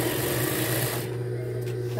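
A sewing machine runs steadily while stitching pieces of a handmade bag together, a close, continuous mechanical hum and whir that drops slightly in brightness partway through.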